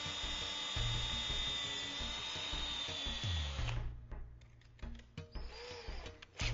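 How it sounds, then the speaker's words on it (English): A power drill with a 1/8 inch bit whines at steady high speed while pre-drilling a hole in a gate's hinge rail, then stops abruptly, leaving short irregular mechanical clicks and bursts. "Using a 1/8 inch drill bit, you will position your hinge rail and pre-drill the top hole."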